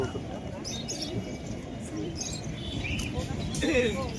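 Pigeons at a busy pigeon market coo softly among chirps while someone talks over them and a crowd murmurs in the background.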